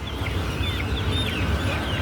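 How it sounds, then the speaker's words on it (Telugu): Country chickens, including pure native and Aseel birds, cluck and chatter at a busy Sunday village market in Kothagudem, several overlapping calls amid a steady crowd murmur. "అన్ని రకాల కోళ్ళు నాటు కోళ్ళు ప్యూర్ నాటు కోళ్ళు అసీల్ కోళ్ళు"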